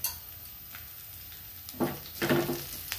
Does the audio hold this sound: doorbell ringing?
no